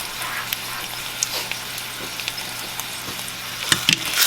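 Taco shells fry in a pan with a steady, hissing sizzle of hot oil, broken by a few soft pops and a clatter near the end, all at a constant moderate level.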